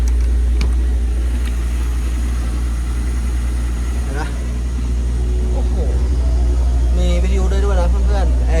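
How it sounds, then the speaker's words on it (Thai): A VR6 V6 car engine idles smoothly, a steady deep rumble that stays constant throughout, while people talk nearby toward the end. "เครื่อง V6 ด้วย แน่นเลยนะ VR6 เครื่องนิ่งด้วย นี่ที่เปิด"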